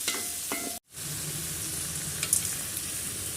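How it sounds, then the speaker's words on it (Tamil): Tomatoes with onion and garlic sautéing for black rice kichadi, a steady close sizzle broken by one brief silent gap, with a few light stirring clinks. "வெங்காய பூண்டு போட்டு வதக்கியாச்சு இப்போ தக்காளி போட்டு வதக்கணும்"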